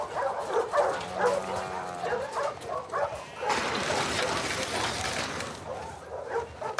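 A dog in the video game The Last of Us Part 2 gives several short, excited yips and barks nearby, with splashing water, rustling movement and a spoken voice mixed in.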